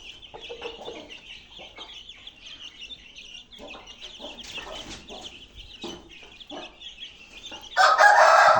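Koko, a pet rooster kept among hens, crows and clucks loudly and close, with steady hen chatter throughout and a very loud, harsh crow bursting in at the end.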